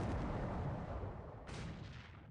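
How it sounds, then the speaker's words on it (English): Naval gunfire from Japanese warships, including the battleship Mutsu firing 40 cm shells, in a WWII naval combat game set in December 1941, plays as a continuous heavy rumbling barrage with a renewed burst of blasts midway. "Japanese ships open fire on surprise Allied forces."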